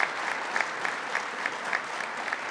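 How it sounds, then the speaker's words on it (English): An audience at a clean energy and economic development announcement gives a steady round of applause, dense and continuous clapping from many hands throughout. "Let's give her another round of applause."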